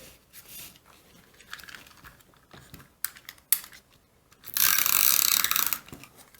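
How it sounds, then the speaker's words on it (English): A Tombow Mono permanent adhesive tape runner rolls across paper in a scrapbook journaling project, heard as close clicks and soft ratcheting, then a loud continuous rasping roll lasting about a second and a half. "Here I'm using my Tombow Mono permanent adhesive tape printer."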